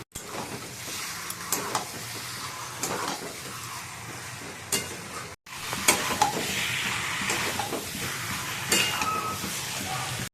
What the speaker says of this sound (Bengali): মশলা কষা হয়ে গেছে, এবার মাংসটা দিয়ে